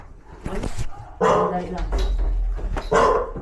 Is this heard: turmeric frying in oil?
no